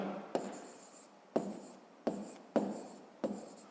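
A pen writing on paper during a math exercise: five distinct scratchy strokes, each starting with a sharp onset and fading, close and fairly quiet with no talk.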